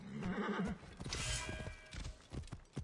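Horse hooves clip-clop and a horse neighs in Assassin's Creed Origins, the whinny loud and close early on, followed by scattered hoof thuds and game effects.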